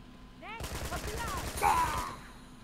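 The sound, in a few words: gunshots shooting a lock, from video game Uncharted 2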